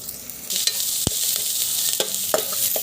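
Chopped ginger, chilli and carrot frying in a pan, a close, steady sizzle with scattered sharp clinks and scrapes of stirring and one brief knock.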